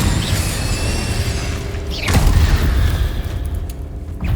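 An Incendio fire spell cast in Hogwarts Legacy flares as a single whooshing burst about halfway through, over a constant dense bed of game noise with low rumble.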